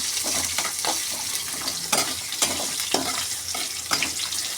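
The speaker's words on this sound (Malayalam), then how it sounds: "ഇതിലേക്ക് ഞാൻ വലിയ ഉള്ളി ചേർക്കുകയാണ്. നന്നായിട്ടൊന്ന് വഴറ്റട്ടെ." Large onions sautéing in a pan for a karpooravalli chamanthi, a steady close sizzle with several scraping stirs at regular intervals and no talk.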